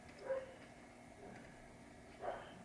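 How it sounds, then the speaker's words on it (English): A dog barks twice in the background, a faint yelp near the start and another about two seconds later, during work on a 1973 Williams pinball machine's clock unit. "you can hear my dog barking"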